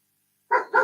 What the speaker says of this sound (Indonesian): Itu suara guguknya di mute dulu Bang EYY